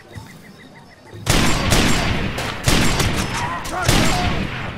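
Loud bursts of rapid gunfire start after a quiet second, several overlapping volleys crackling close and continuous to the end.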